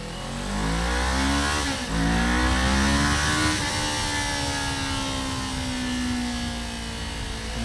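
A Kawasaki Ninja 500 with a Yoshimura exhaust pulls hard through the gears, its deep engine note climbing, dropping at a shift, then climbing again into a sustained, loud drone nearby.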